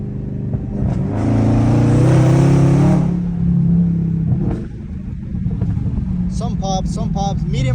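Chrysler 392 V8 with cat-less midpipes and no mufflers or resonators, driving: loud, deep exhaust rumble swelling under throttle, then settling back, with a voice talking over the engine near the end.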